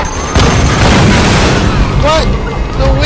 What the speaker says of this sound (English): That explosion was too high above me for it to kill me